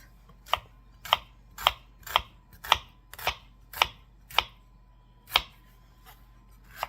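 Knife chopping through an onion on a cutting board, about ten sharp, evenly spaced thwacks roughly half a second apart, close and crisp over a faint low hum.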